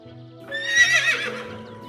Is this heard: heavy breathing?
no